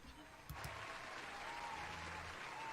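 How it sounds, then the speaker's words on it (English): Audience applause at a live comedy show: a faint, steady wash of clapping that swells slightly after a brief bump, heard from a distance under a low background murmur. "You gave him applause for that shit?"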